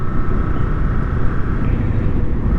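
A motorcycle rides along a road with a steady, loud, low engine rumble and wind roar close up, constant throughout with no speech.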